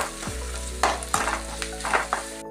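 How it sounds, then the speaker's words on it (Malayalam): Finely chopped garlic and carrot frying in a pan, a close crackling sizzle under repeated scraping strokes of a spoon against the metal, several distinct stirs in quick succession. "കുറച്ച് വെളുത്തുള്ളി ചെറുതാക്കി അരിഞ്ഞത്, ഒരു ക്യാരറ്റ് ചെറുതാക്കി അരിഞ്ഞത്. അപ്പം എല്ലാം കൂടി ഒന്ന് ഫ്രൈ ആവട്ടെ"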